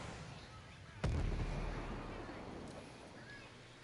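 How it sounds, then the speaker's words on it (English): A grenade bursts nearby in a military shooter game, one sharp loud blast with a heavy low rumble that decays slowly over a few seconds amid faint background noise. "That's a grenade on my position."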